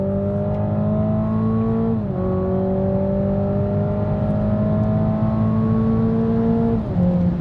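A Toyota GR Supra with a four-cylinder engine accelerates hard on a racetrack in sports mode, its engine note climbing steadily through the gears with brief drops at each upshift, loud and continuous.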